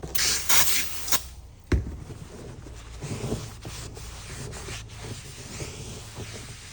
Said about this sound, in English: It's always good to get some brake cleaner. Clean the surface of the rotor on both sides with a clean rag